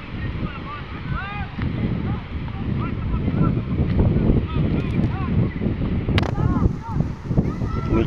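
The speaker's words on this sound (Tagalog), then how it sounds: "Medyo mahangin no?" Gusty wind buffets the microphone with a continuous roar by the Trebbia river, while birds chirp faintly in the background.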